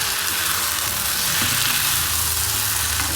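Mutton pieces sizzle and fry in a hot pan while being stirred for mutton kurma, a steady loud crackling hiss that continues throughout with no one talking.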